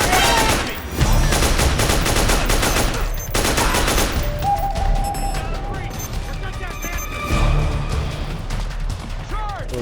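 Dense, continuous gunfire and explosions from the PS3 game Metal Gear Solid 4: Guns of the Patriots, loud and sustained throughout, with in-game voices shouting over the battle.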